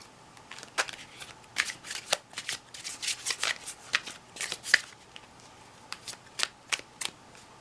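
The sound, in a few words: shuffling Blythe Doll tarot cards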